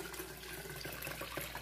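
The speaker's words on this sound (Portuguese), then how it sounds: "Eu vou coar aqui de novo no liquidificador." Water from processed corn pours and splashes steadily as it is strained again into a blender, a continuous close trickling with no voices.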